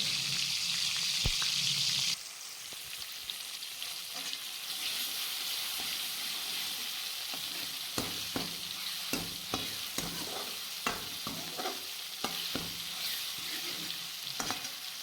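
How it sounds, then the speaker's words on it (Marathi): Chopped tomatoes fry in oil for a soybean curry, giving a steady sizzle. It is broken by frequent clicking stirs of a utensil against the pan and starts with a short hiss of running water. "तेलामध्ये टाकल्यानंतर 2 मिनिट व्यवस्थित ते असं लाल असं तळून घ्यायचं आहे"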